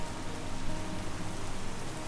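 Heavy rain pours down steadily on a street outside a cemetery, a dense, unbroken hiss that stays loud and even throughout with no voices.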